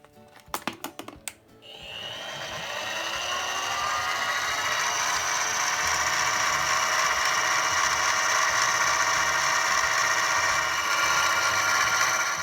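A Harbor Freight mini mill spins up after a few clicks and drills a hole in a workpiece, a loud steady high-pitched whine that holds continuously without voices.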